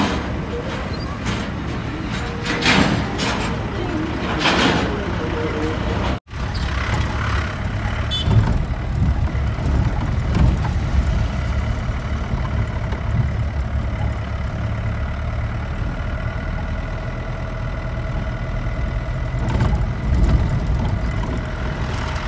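A Tata Sumo's engine rumbles steadily as the vehicle pulls away, a continuous low drone with road and cabin noise that stays loud throughout, broken by one brief dropout early on and some voices in the background.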